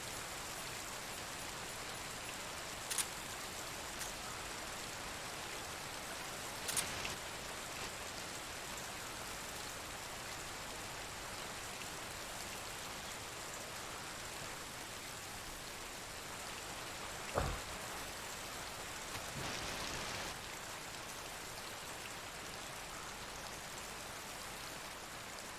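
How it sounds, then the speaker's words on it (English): Rain falls in Metal Gear Solid 3: Snake Eater as a soft, steady hiss throughout, with a few faint scattered clicks and knocks above it. "It's harder when in the rain."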